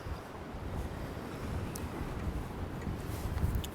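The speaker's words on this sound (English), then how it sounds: "It's very windy and blustery, so my microphone's not quite up to the job" Strong, gusty wind buffets an outdoor microphone, producing a continuous loud rumbling roar that swells and dips without pause.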